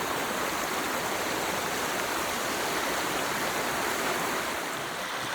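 A stream crossing on a hiking trail in the Ouachitas, rushing water flowing in a steady, dense, broadband wash with no break or other sound over it.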